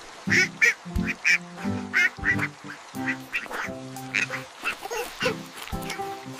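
A duck quacks loudly and repeatedly in quick bursts, close up, with a steady rhythmic pattern and little else around it.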